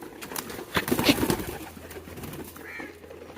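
Several pigeons coo and call together in a loft as new birds are added, a cluster of soft overlapping calls in the middle with quieter cooing around it and no speech.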